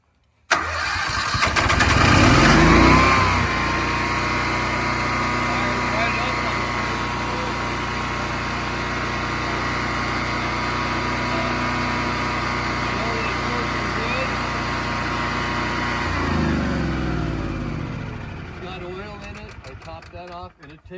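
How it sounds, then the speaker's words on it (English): A new off-grid backup generator cranks and catches, revving up loudly, then settles into a steady mid-pitched idle for about fifteen seconds before winding down and shutting off. "And we'll start it and see what happens."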